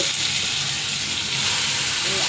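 Onion and garlic sizzle and fry steadily in a hot pan, a continuous close crackling hiss with no talking.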